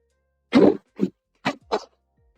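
A short run of coughs: one heavy, rough burst, then three quicker, lighter ones spaced closely, close to the microphone with quiet in between.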